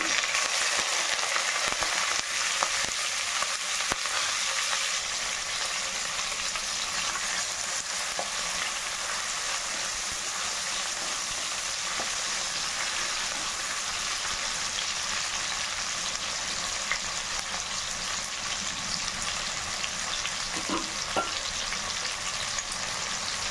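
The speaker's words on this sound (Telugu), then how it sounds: "కళాయి పెట్టానండి, ఆయిల్ వేసాను 2 స్పూన్లు. ఆనియన్ వేసుకుంటున్నా." Onions fry in two spoons of oil in a kadai, giving a steady, close sizzle that holds at an even level throughout, with faint stirring clicks and no talk.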